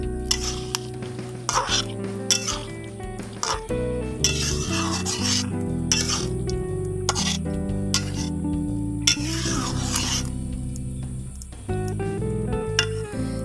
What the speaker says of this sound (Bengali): চিংড়ি মাছ দিয়ে আলতো হাতে কিছু সময় নাড়াচাড়া করে নেব।